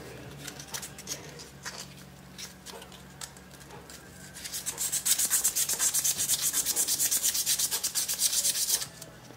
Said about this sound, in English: next, 500 grit sandpaper